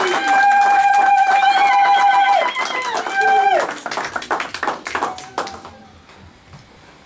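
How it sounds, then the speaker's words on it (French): A church congregation cheers for the pastor with sustained high-pitched voices. Loud, scattered hand clapping joins in and then tapers off toward the end. "Acclamons très fort pour la gloire du Seigneur."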